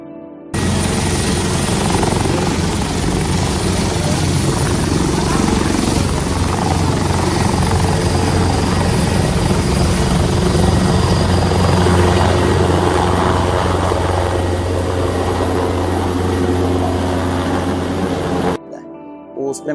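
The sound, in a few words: helicopter flying overhead during flood rescue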